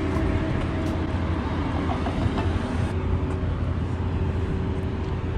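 A Valley Metro light rail train rolls through downtown Phoenix alongside street traffic, a loud, steady rumble with faint clanks and no talking.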